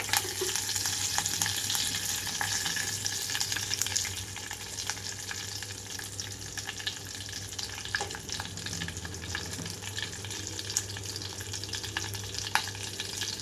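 Continuous crackling sizzle of tempering spices, dried red chillies and curry leaves, frying in oil, close and steady, with scattered small pops and no talking.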